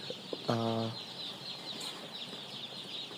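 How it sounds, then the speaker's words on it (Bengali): Colour-dyed baby chickens bought for rearing: a faint, continuous chorus of high cheeping, with one louder short fowl call near the start and a few soft clicks. "মুরগির বাচ্চাটা নিলাম আর মুরগির বাচ্চাটা পার পিস পড়ছে তেরো টাকা পার পিস"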